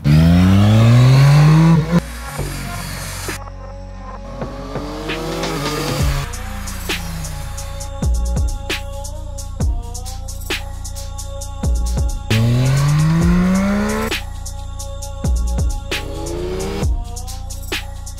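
A motorcycle on a race circuit accelerates hard with rising engine revs, then brakes sharply, the loud pass and deceleration repeating twice in close succession with no talk.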